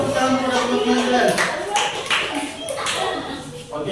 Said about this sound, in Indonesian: Berikan tepuk tangan kepada teman-teman kalian.